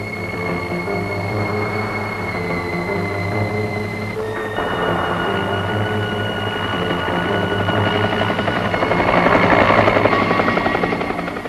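A helicopter flies over the Rissa quick-clay landslide in Norway, its rotor and engine droning steadily and loudly, with the pitch shifting partway through and the noise swelling as it passes closer.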